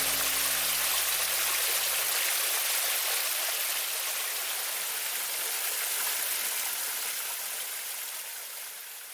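Steady broadband rush of a waterfall at a former fulling mill on a countryside walk, a continuous loud wash that fades slightly toward the end, with a low hum in the first two seconds.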